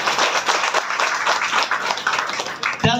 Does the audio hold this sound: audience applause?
yes